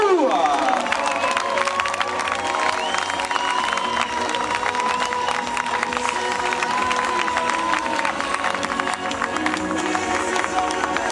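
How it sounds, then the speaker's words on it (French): Crowd at an urban trial bike event in Cahors cheers and applauds over loud music as a rider is welcomed, a dense continuous wash of clapping and shouts. "Je vous demande d'accueillir en musique et sous vos applaudissements, Monsieur Tony Fou."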